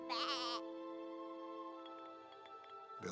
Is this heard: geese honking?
no